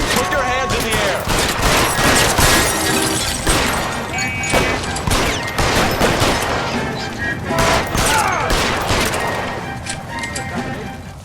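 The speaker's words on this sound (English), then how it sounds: "What's with all the firecrackers?" Rapid gunfire crackles like firecrackers in the video game L.A. Noire, a dense fusillade of sharp shots and crashes over several seconds with brief game voices mixed in.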